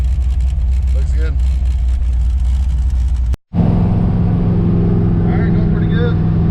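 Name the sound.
LS-swapped Ford Mustang driving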